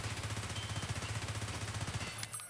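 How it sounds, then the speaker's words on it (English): Rapid full-auto gunfire from a rifle fed by a 50-round magazine in Escape from Tarkov, a dense, loud unbroken burst of shots that cuts off near the end. "Full auto, this is where this gun really rips"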